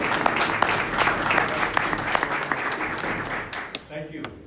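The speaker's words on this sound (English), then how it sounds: "let's give them all a little bit of applause." An audience at a committee meeting breaks into applause, a burst of many hands clapping that runs for a few seconds and then tapers off near the end, with a voice over it.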